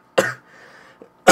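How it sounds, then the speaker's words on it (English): Two close coughs from one person, separated by a short quiet gap with faint background noise. "I hope that you're getting past my stupid cough"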